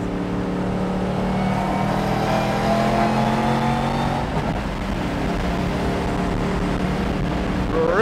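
A 1979 Z28 Camaro fitted with a 755 hp LT5 engine accelerating hard, its loud, close engine note climbing and holding, with a brief gear change midway before revving up again.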